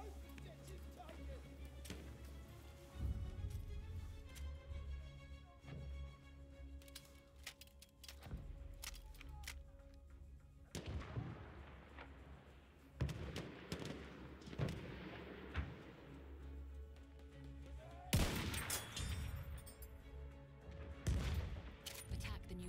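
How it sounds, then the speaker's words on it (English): An enemy artillery barrage with gunfire in the video game Battlefield 1: heavy booming blasts and crackling volleys over a low rumble, with bursts growing denser and louder toward the end. "Wait for the enemy artillery barrage to stop firing."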